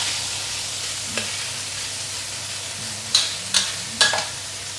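Stingray frying in a wok with sambal and salted vegetables gives a steady low sizzle, broken by a few quick spatula scrapes and clacks toward the end.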